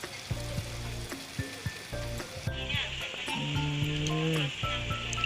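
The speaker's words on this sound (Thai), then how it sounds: "หมู ไก่ นี่ค่ะย่างร้อนๆนะคะ ย่างไปกินไปประมาณนี้ค่ะ" Pork and chicken sizzling on a hot grill, a steady hiss beneath louder background chatter and a loud restaurant din, with tonal bursts of speech-like sound throughout.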